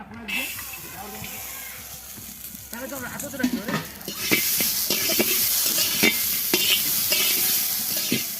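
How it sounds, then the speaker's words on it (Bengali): Peanuts frying in a pan for khichuri, heard as a dry rattling sizzle with scraping stirs that grows louder and busier partway through, under a voice talking early on. "খিচুড়িতে দেওয়ার জন্য বাদামটা ভেজে নেব সুন্দরভাবে"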